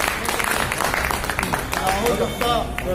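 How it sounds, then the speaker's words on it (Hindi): A crowd at a street rally in Chhatarpur, Madhya Pradesh, breaks into scattered, busy clapping that continues under a speaker's voice. "ताली तो बजा दो, ताली बजा दो सब।"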